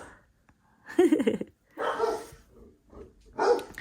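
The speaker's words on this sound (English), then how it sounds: "the big dog can see out the window, and then the little dog just starts barking because the big dog is barking" A big dog and a little dog bark at a window in three separate bursts, fairly close and loud, with short quiet gaps and some breathing between them.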